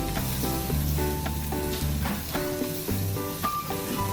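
Meat pie filling sizzles steadily in a pan as curry powder is mixed in, with a constant frying hiss and tonal music playing over it.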